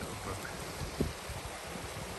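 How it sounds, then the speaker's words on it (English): A small brook in the Thursden valley flows outdoors with a steady broadband rushing wash that stays even and fairly close throughout, with no voices over it. "So nice little brook."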